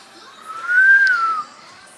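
A child trying to whistle, producing one thin, breathy whistle tone that rises slightly and holds for under a second before fading, close and fairly loud against a quiet room.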